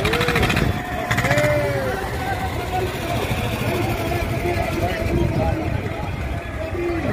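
A long farmers' convoy of tractors and other vehicles rolls past on the road, engines droning steadily, while people talk loudly over the traffic noise.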